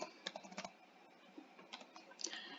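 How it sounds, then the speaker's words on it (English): A single word is typed on a computer keyboard, producing faint, close, irregular key clicks in a short sequence. "I'm going to type in the word rolls"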